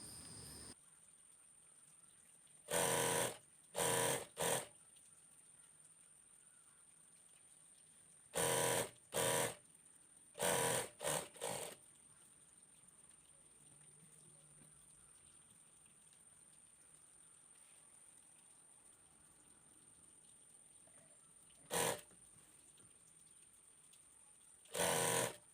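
Sewing machine stitching a folded hem on a girl's shirt, running in short loud bursts of rapid needle chatter separated by long quiet pauses, close up with a faint steady hum between runs and no talking.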